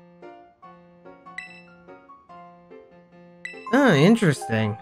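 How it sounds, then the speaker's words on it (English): A video game doorbell from Pokémon Violet chimes in a short run of bright, evenly spaced tonal dings, then a person talks over the end of it. "Oh no, that's the doorbell."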